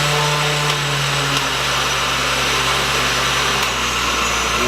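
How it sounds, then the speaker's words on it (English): A kitchen blender whirs steadily at a slow speed, grinding mole sauce ingredients in a loud, continuous motor hum with no talking. "now that I have my mole, my ingredients over here in the blender, I'm just gonna blend it out."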